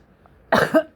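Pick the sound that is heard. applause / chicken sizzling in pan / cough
cough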